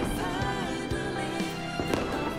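Fireworks burst in a few dull thuds at a moderate distance, with a faint crackle under steady background music.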